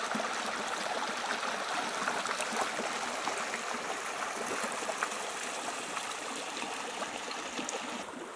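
Steady rushing flow of a cold mountain stream near a hidden waterfall at an overnight campsite, a continuous broadband wash of water close by with no talk over it.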